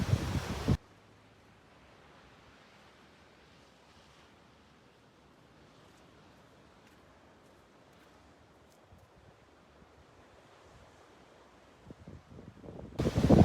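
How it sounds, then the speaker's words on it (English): Steady wind buffets an outdoor microphone for about twelve seconds, a dense low rumble and hiss that never lets up, with louder gusty bursts at the very start and end. "Yes, it's windy out here."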